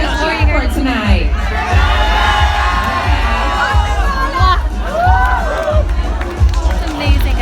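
Loud crowd at a live Miss Universe 2017 costume show at Planet Hollywood, Las Vegas, cheering, whooping and shouting continuously throughout, with rhythmic thumping music underneath.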